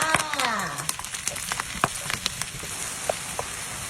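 Onion frying in a pan for spaghetti carbonara, a steady close sizzle with crackling pops and occasional stirring clatter, under a voice and brief music.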